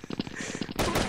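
Gunfire from a Mauser M1932 in the video game Truy Kich: a rapid string of about ten close, sharp shots, then a sudden louder, denser burst of fire and noise at the end.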